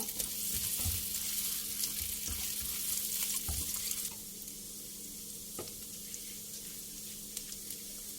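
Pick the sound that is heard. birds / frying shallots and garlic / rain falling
frying shallots and garlic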